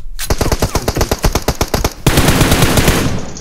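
Automatic gunfire in the PUBG Mobile video game, a loud rapid burst of about fifteen evenly spaced shots, then a dense noisy rattle of continued fire and echo.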